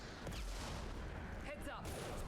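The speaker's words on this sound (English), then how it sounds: "Now there's another one! Stop with the freaking missiles!" Missile explosions in the Mass Effect 2 Legendary Edition shooter, a dense rumble of blasts and gunfire that stays loud throughout, with game voices underneath.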